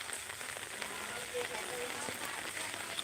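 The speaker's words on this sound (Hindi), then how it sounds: "ये बारिश की बूंदे चला खेलिया बे" Rain falls steadily on surfaces in a village, a dense, even hiss of raindrops with faint scattered patters, constant and close throughout.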